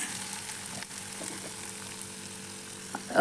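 Onions frying in a pan as chopped tomatoes are added, a steady soft sizzle with faint stirring scrapes and a louder clatter near the end.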